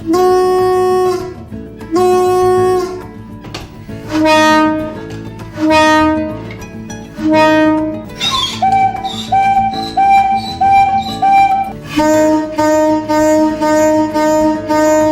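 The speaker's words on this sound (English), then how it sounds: "These are some of the emergency foghorns." Several deep, loud horn blasts sound in sequence, some short and some held longer, with shifting pitches overlapping like a set of foghorns.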